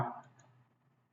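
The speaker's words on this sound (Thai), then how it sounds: "ติ๊กตรงนี้ คลิกขวา" A single computer mouse click during post-processing work, one sharp close click that fades quickly into quiet room tone.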